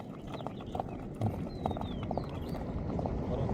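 A horse moving over open ground gives soft, quick hoof clip-clops, faint and somewhat distant against a quiet outdoor background, with a brief whistle-like bird call drifting through.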